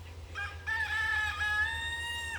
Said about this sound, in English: These are definitely well-treated chickens.